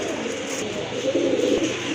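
Black-and-white pigeons cooing close by, low soft throaty calls that swell midway, with no speech.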